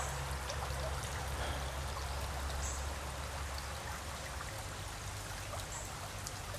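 Steady morning rain falls in a continuous soft patter and trickle, a constant even wash of water with no voices.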